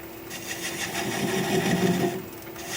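A wood lathe spins a heavy bowl blank slowly, about 400 RPM, while a 3/8 inch swept back bowl gouge cuts it, giving a steady close whirring hum with a scraping tone that swells slightly mid-cut.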